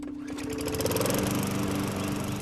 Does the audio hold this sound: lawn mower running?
yes